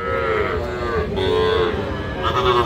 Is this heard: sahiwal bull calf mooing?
yes